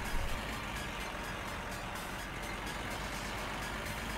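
Car engine in My Summer Car running with no exhaust fitted, a loud, rough, continuous broadband roar held steady throughout.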